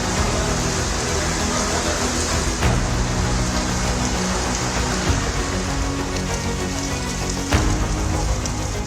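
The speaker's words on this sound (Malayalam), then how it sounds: "കൊൽക്കത്ത, ഹുബ്ലി, ഹൗറ എന്നിവിടങ്ങളിൽ കനത്ത മഴയാണ്" Heavy rain from Cyclone Remal pours down in West Bengal near Kolkata, a dense, loud, continuous hiss of water hitting surfaces with no break, and faint traffic beneath it.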